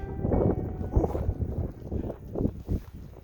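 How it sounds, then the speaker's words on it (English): Wind roars and buffets steadily close to the microphone, rising in a few stronger gusts, with no voices present. "It's windy."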